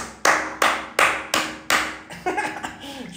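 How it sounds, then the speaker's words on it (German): Five sharp, evenly spaced hand claps ring out close and loud, followed by a few softer, quicker taps. "Und das Klatschen, was ihr gerade hört, kommt nicht von meinen Händen."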